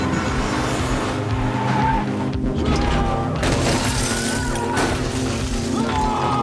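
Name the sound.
car chase with tire skidding in Death Note live-action film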